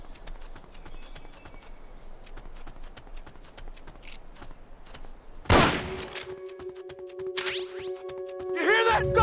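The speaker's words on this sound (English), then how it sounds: "You hear that? Gunshots!" Video game gunfire in Metal Gear Solid: Peace Walker: a sharp loud burst of shots cuts through quieter ambient rattling, followed by ringing electronic tones and further bursts.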